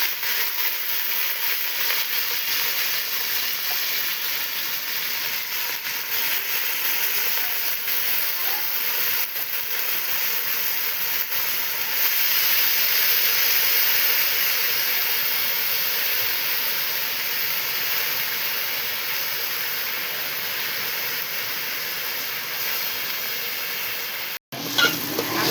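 Cumin seeds and chopped onion sizzling in hot oil, a loud, close, steady hiss that runs unbroken for the whole stretch, with a brief clatter near the end.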